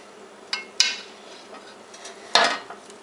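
A metal spoon basting homemade meatloaf with pan grease makes two sharp clinks against the pan, close and fairly loud, separated by a soft scrape, with no talking.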